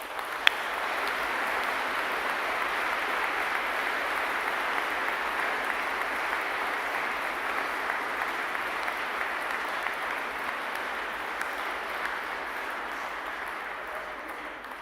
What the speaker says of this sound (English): a round of applause for our staff